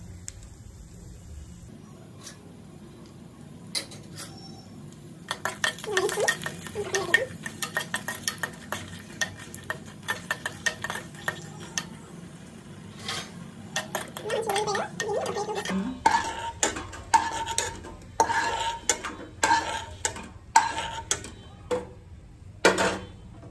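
Green chilies, six to eight of them, frying in hot oil for a cauliflower-stalk chutney, with a spatula stirring and scraping the pan in quick bursts over a steady sizzle, loudest toward the end.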